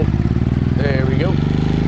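Motorcycle engine running steadily at close range with a sharp rev change partway through as the rider misses a gear shift, loud and continuous for about two seconds.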